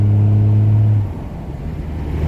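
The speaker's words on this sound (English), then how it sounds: "a 12 valve Cummins has gotta be one of the best sounding engines ever made" A 12-valve Cummins diesel engine revs loudly with a deep, steady harmonic drone for about a second, then drops back to a low rumbling idle.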